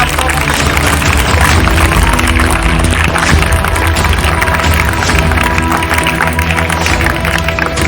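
A school audience of students at an assembly claps loudly and continuously, a thick, sustained roll of applause with crowd noise that fills the room throughout.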